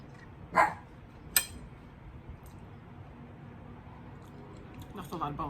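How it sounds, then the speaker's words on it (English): A dog barks at a passerby outside a house, two sharp barks early on, then quieter yips and whines near the end over low room noise. "my dog wants to bark while I'm filming because somebody's outside having the nerve to walk past our house"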